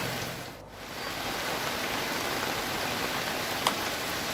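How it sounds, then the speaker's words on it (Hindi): Heavy rain falling steadily in Bhubaneswar, a dense continuous hiss of drops on surfaces with an even, unbroken intensity throughout and no voices. "मध्याह्न भुवनेश्वर में जोरदार वर्षा होती अधिकांश अंचल में"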